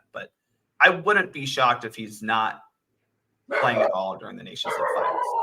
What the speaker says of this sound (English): Sorry about my dogs. They're going crazy right now.